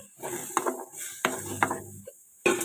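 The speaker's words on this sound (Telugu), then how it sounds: "బాండి పెట్టాను దానిలో ఇప్పుడు ముక్కలు వేసుకున్నాను" Potato pieces being stirred in a frying pan on a lit stove, giving a few sharp metallic clanks and scrapes of a utensil against the pan, close and moderately loud with short quiet gaps between strokes.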